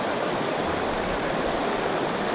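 A waterfall cascades by a river during a fishing outing. It makes a loud, steady, close rushing roar of falling water with no breaks, and no one speaks.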